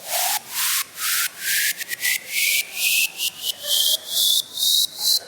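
Rhythmic pulsing of a hissy, rising noise sweep in Ableton Live, its volume chopped on and off by a Utility gain knob into a stuttering pattern of short bursts and gaps, close and fairly loud, with no talk.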